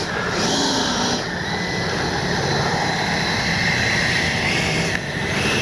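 An FMS Avanti S 90mm electric ducted-fan RC jet plane flies past, its steady, loud whooshing fan whine holding throughout with a gentle swell in pitch, no talking over it.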